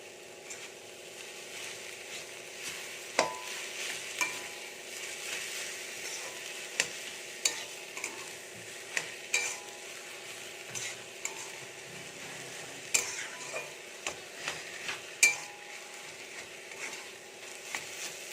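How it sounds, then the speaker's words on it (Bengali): A boiled potato and vegetable mixture with sugar stirred in a pan for vegetable chops, making soft scraping strokes and occasional clicks of a spoon against the pan over a faint low sizzle, irregularly spaced. "খুব ভালো করে মিশিয়ে নেব"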